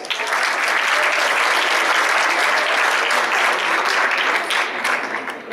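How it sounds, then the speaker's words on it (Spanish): Steady, dense applause from an audience at an academic panel on physical education, a loud, continuous wash of many hands clapping that holds for the whole stretch without a break and tapers only slightly at the end. "Fuerte el aplauso."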